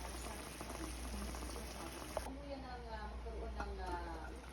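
Adobo chicken wings simmer gently in plenty of hot water and sauce, a soft continuous bubbling and popping held at low volume throughout.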